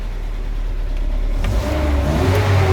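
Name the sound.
GAZelle van engine revving, LPG system being tuned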